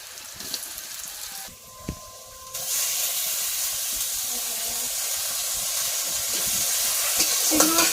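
Chopped garlic hits hot oil with salt and starts sizzling, the hiss rising sharply after a quiet start and staying loud and steady, with a few stirring clinks.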